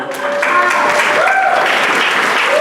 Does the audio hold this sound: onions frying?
no